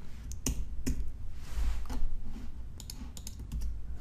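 Ctrl X is pressed on a computer keyboard to exit a text editor after editing an HTML file on an Amazon EC2 server. A few crisp, close key clicks sound in a quiet room.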